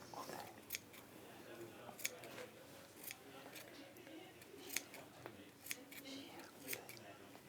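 Small scissors snip tiny V-shaped notches into sewn fabric close to a line of stitching, giving a series of brief, crisp cuts spaced irregularly, close and quiet, with soft speech in the background.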